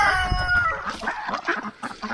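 A rooster crows and chickens cluck close by in a backyard flock, the crow rising over overlapping clucks in a short burst.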